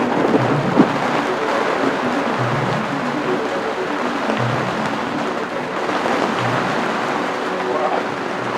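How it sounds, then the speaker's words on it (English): Heavy rain roars steadily and densely throughout from a thunderstorm over a sailboat, with low rumbling beneath it, like a storm passing close by. "A lot of rain now."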